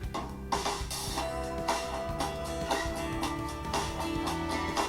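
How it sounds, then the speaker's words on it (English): An instrumental music track plays continuously with a steady beat, bass line and layered melodic parts, moderately quiet and with no voices. "Below that would be the background music that you hear"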